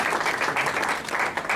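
Steady, dense applause from an audience at a lecture, loud and continuous throughout with no pause.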